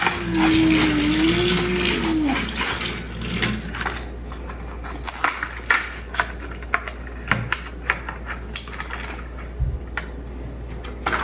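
A Hot Wheels toy car is taken out of its packaging with a string of sharp, irregular clicks and plastic snaps, close by. A brief tonal whine sounds at the start, then the handling grows sparser and quieter.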